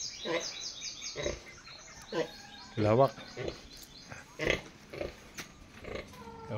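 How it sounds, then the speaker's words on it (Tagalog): Pigs on a farm grunting and oinking in short bursts, some close and loud, while a person talks over them. "Daming baboy."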